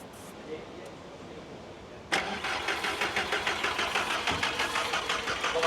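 A VW Golf with a fuel problem cranks with a rapid, rhythmic churning of the starter after a quiet start, steady and close for several seconds without catching.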